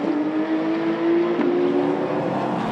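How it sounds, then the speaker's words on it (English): Supercar Challenge race cars, including a Lotus Exige V6, roar along the track at Spa-Francorchamps in a close, loud, continuous engine drone with a steady pitch that shifts slightly midway. "Lead battle, John de Wilde and Roger Graals heading towards the pit stop window"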